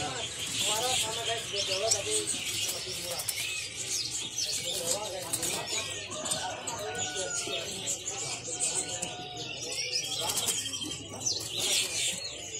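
Caged songbirds at the Pramuka bird market chirp and trill in dense, overlapping bursts, with cooing doves mixed in and people talking throughout.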